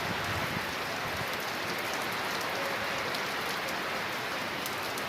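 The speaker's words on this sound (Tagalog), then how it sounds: "Napakalakas ng ulan." Heavy rain pours down in a dense, steady hiss with constant patter on surfaces, loud and unbroken throughout, with no one speaking.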